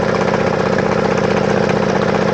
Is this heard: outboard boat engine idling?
yes